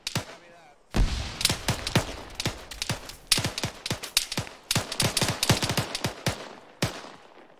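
Gunfire in the video game Arma 3 during a joint operation: rapid bursts of sharp, loud shots crack out after a brief quiet start, with irregular volleys and single reports clustering densely across the scene.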